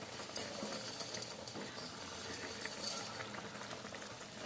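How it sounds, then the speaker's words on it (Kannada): Water with chopped ginger comes to a boil in a pot for shavige bhath, a soft, steady bubbling hiss that stays faint and even throughout. "ಈಗ ಕುದಿ ಬರಲಿ. ಓಕೆ, ಈಗ ಕುದೀತಾ ಇದೆ."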